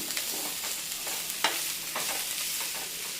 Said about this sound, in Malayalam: ഇനി നമുക്ക് അരിഞ്ഞു വെച്ചിരിക്കുന്ന പയറിൻ്റെ ഇല ഇട്ട് കൊടുക്കാം. ഒന്ന് ഇളക്കി കൊടുത്തേക്കാം.